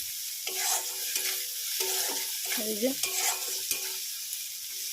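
Finely chopped onion frying in a home kitchen pan with a steady bright sizzle, broken by a few stirring scrapes. A voice speaks a brief word partway through.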